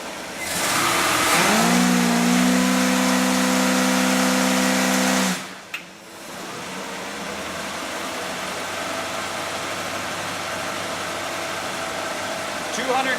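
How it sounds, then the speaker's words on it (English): An engine held on the trans brake during a transmission dyno test revs up and holds a loud, steady drone for several seconds, then drops sharply to a lower sustained hum; a voice is heard talking. "Now, I'm going to put on the trans brake and I'm going to show you how fast the torque converter can make heat."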